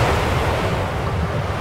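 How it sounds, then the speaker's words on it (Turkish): Huge tsunami waves crashing onto the shore as a loud, steady roar of surf and rushing water, close and continuous without any pause. "devasa dalgaların kıyıya vurmasıyla ortaya çıkan"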